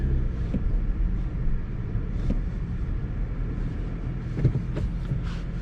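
A manual transmission car coasts with the clutch pushed in after coming off a hill, giving a low, steady rumble of tire and road noise with faint wind and a few soft knocks, and no engine revving.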